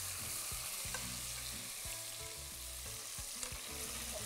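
Potato pieces dropped into hot, smoking mustard oil, a steady close sizzle and crackle with scraping and stirring knocks throughout, no voices.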